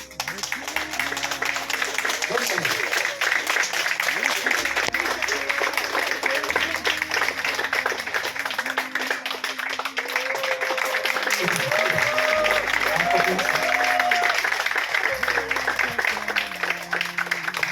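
A wedding congregation claps along steadily, a sustained wash of applause that runs the whole time beneath louder music and voices in the room.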